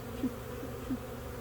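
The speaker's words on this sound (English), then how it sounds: "Here, your bees." Honey bees buzz softly around an open hive during a spring inspection, a low steady hum with a couple of brief closer passes, no talk.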